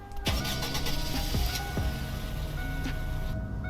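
A taxi-trim car in the Roblox game Greenville starts up: a starter crank with a few thumping turns, then the engine catches and settles into a steady, loud mid-pitched idle hum that cuts off near the end.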